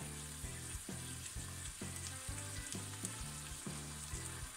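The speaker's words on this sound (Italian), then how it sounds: "Aggiungiamo le patate a tocchetti, facciamo insaporire il prezzemolo" Potato chunks and parsley fry with small octopus in a pan, giving a continuous close sizzle broken by regular, rhythmic scraping pulses as the mixture is stirred.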